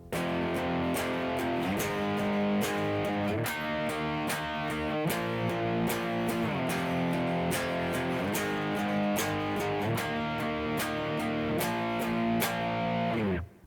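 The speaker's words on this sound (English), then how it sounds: "you can just strum each chord 4 times like this" Distorted electric guitar strummed steadily, each chord hit in repeated groups of four, loud and continuous with no voices.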